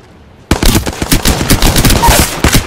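Rapid automatic gunfire in the Apex Legends battle royale game bursts in suddenly after a quiet moment, loud and close, with dense irregular volleys continuing to the end.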